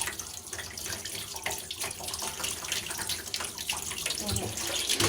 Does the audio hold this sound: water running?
yes